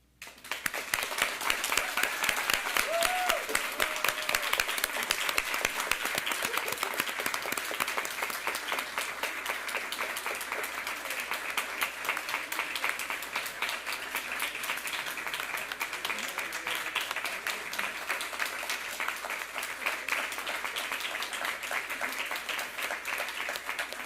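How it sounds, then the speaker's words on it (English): A large audience applauds at an induction ceremony, sustained dense clapping that starts abruptly and holds steady for over twenty seconds, with a brief voice near the start. "please join us in one final round of applause for the Wall Fellows class of 2025"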